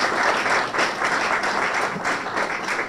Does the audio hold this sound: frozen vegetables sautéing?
no